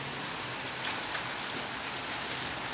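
Steady rain falls outside, a dense continuous hiss of drops on surfaces, even in level and without voices.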